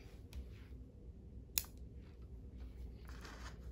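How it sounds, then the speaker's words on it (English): Scissors snip through crochet yarn with one sharp, close click in an otherwise quiet room, followed by faint handling rustles. "I'm going to cut my yarn"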